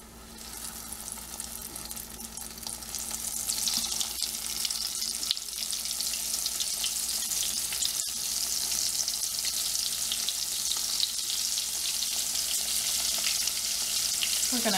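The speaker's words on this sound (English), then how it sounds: "we want to make sure that our oil has heated up really good for us. Now we're going to drop in our fillets." Crappie fish fillets dropped into hot oil, a bubbling fry that swells within a few seconds into a loud, steady crackling sizzle and holds, no speech.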